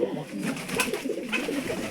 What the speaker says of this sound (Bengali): রয়েছে আমাদের একটা গিরিবাজ কবুতর,